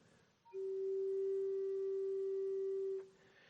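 A steady, pure pipe tone sounds alone for about two and a half seconds, starting and stopping cleanly over faint room noise.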